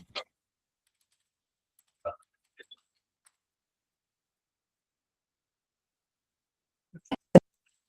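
Scattered keyboard typing during video editing comes as a few isolated taps and clicks in near silence, closing with a quick, louder group of keystrokes.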